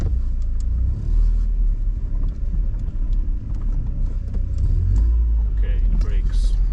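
A Mercedes W201 fitted with a six-speed shifter, with air in the brake lines and loosely tightened wheels, drives with a loud, steady low road and engine rumble, and an indistinct voice is faintly present.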